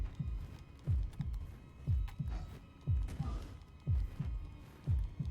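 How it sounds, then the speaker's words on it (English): A heartbeat in the Skull Island: Rise of Kong video game thumps in a steady, heavy double-beat rhythm, about one beat per second, low and throbbing under a faint background hum. "Yeah, I can hear my heartbeat."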